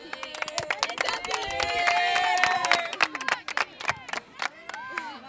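A women's football team at a youth cup tournament claps and cheers in a sharp burst of applause, close and lively, with scattered voices calling over the hands.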